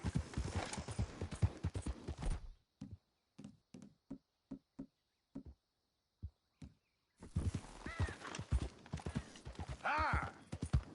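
Horse hooves clip-clopping at a walk in the Red Dead Redemption II video game, a run of distinct, evenly spaced hoof knocks in near silence, with talk before and after the hoofbeats.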